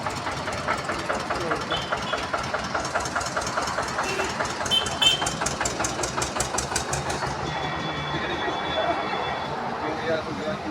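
A tractor engine runs steadily at close range, its rhythmic chugging knock continuing throughout without a break.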